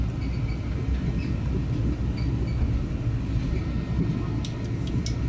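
A Brightline passenger train running near Northwest Palm Beach, heard from on board as a steady, loud low rumble of wheels and carriage noise with faint higher squeaks near the end.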